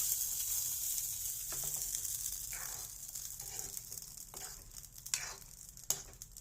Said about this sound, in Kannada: ಸಾಸಿವೆ ಜೀರಿಗೆ ಇಂಗುಂದು ಒಗ್ಗರಣೆ ಕೊಟ್ಟು